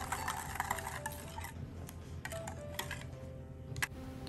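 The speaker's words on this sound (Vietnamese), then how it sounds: "rồi mình lược lại cho nó mịn nha." A milk mixture for mooncake filling is strained and stirred, giving soft scraping and light clinking of utensils against a bowl, faint and intermittent with quiet gaps.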